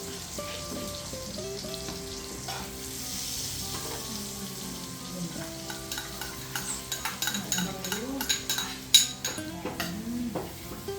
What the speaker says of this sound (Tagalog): And then we'll add the garlic.